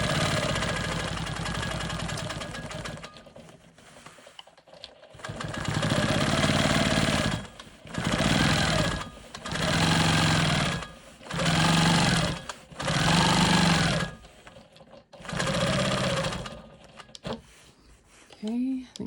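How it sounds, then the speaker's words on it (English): A sewing machine stitches in the ditch around a card trick quilt block guided by a Janome ditch ruler: one long run, then a series of short, even bursts separated by brief pauses, close and clear, with a voice speaking between them. "So I'm using the Janome ditch ruler to stitch in the ditch around my block."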